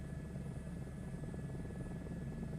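Steady helicopter engine and rotor drone in Microsoft Flight Simulator 2024, a continuous loud low rumble with a constant high whine running unbroken throughout.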